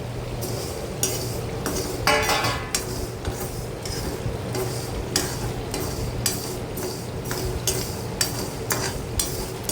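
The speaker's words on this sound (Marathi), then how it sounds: "एकीकडे कांदा तळतो एकीकडे मसाले आपले खडे मसाले भाजून होत आहेत" Whole spices dry-roasting in one pan while onion fries in another: a soft, constant sizzle under repeated metal spoon scrapes and clinks against the pans, irregular and close.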